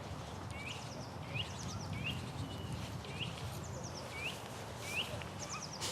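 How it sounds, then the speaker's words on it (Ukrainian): Several birds sing outdoors, repeating short bright chirps and trills at intervals over a low, rumbling background noise, moderately distant and faint. "тут пташки співають"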